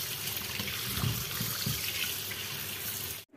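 Tap water runs steadily into a sink over frozen local koi fish set to soak and thaw, a continuous close splashing hiss that stops abruptly at the end.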